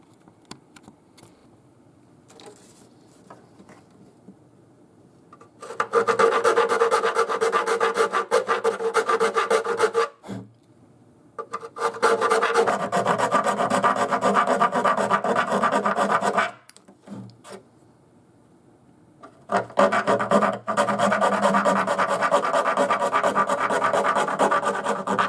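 A rough file rasps against the wood of a Seagull S6 acoustic guitar in three long bursts of rapid back-and-forth strokes, close and loud, with short quiet pauses between them.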